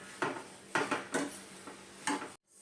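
Sugar being stirred into carrots in a pan over low heat for a milk-based carrot dessert, with a series of distinct spoon scrapes and knocks against the pan at an uneven rhythm, close and alone, ending abruptly.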